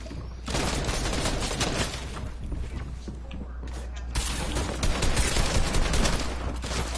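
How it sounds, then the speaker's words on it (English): Scattered gunfire from several teams in a video game, dense bursts of shots filling the whole stretch at steady loudness with no one talking. "who the fuck is just randomly shooting us?"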